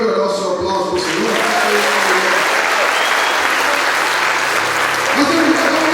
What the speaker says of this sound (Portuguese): Você pode melhorar o seu aplauso para o Senhor?